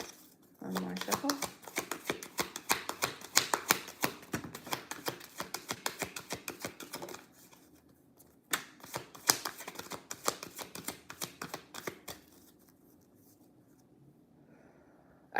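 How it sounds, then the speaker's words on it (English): Repeated riffling bursts of a card deck being shuffled, crisp rapid flutters in several rounds with short pauses between, fairly close. "One more shuffle."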